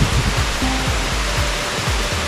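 Water rushes over large rocks at Shiriya dam in Kasaragod, a loud, continuous, close hiss and roar of flowing water with no voices.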